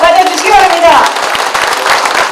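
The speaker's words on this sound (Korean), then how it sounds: "여러분 크고 힘찬 박수로 맞아주시기 바랍니다" A crowd at a local election candidates' debate claps in welcome. A loud voice speaks at the start, then dense, steady applause carries through the rest.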